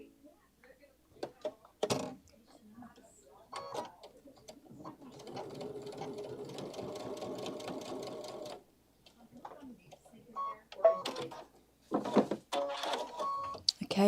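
A sewing machine runs a line of double stitching along tape in a steady, close whirring burst lasting several seconds. Short clicks and handling noises come before and after, and a person talks around it.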